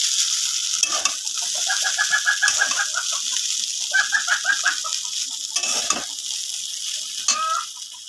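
Vegetables fry in a pan for a Maggi noodle snack, a loud continuous sizzle and hiss broken by several stirring scrapes, with faint chirping or clucking sounds in the background.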